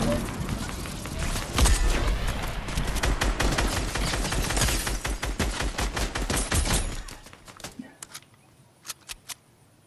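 Video game gunfire in a shooter match, dense rapid bursts of automatic fire that give way to a few scattered single shots, with players talking over the action.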